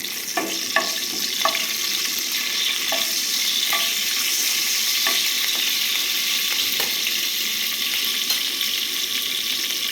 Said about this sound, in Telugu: కొంచెం కరివేపాకు, పచ్చిమిర్చి వేసేసుకొని ఒకసారి కలుపుకుందాం